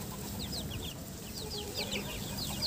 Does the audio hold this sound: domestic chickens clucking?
yes